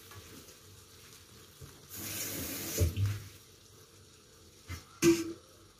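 Prepared food is rinsed under a running tap while cooking suwam na mais with shrimp, with a brief gush of water in the middle and a couple of short splashes afterward, all fairly quiet.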